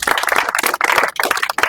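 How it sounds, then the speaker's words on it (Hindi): Children at a coaching class clap loudly together in a lively burst of applause that dips briefly twice before picking up again, close and energetic. "ऊपर जोरदार ताली थोड़ा मारिए"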